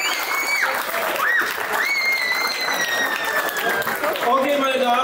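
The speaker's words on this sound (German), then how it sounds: "Ein Applaus für ihn." Audience applause at a fight weigh-in and face-off event, steady dense clapping mixed with a few cheers and whistles, loud and continuous.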